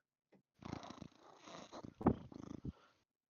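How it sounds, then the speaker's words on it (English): A pet cat purring close up while being petted, a soft rhythmic rumbling pulse that rises and falls in repeated breaths over a few seconds; no talk. "I came over, started petting him, and he just started purring."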